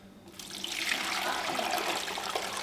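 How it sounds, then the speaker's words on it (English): Filtered water pours steadily into a nugget ice maker after a brief quiet start, a close, continuous splashing rush with a bubbling trickle. "I got this nice filtered water here that I'm going to pour in there"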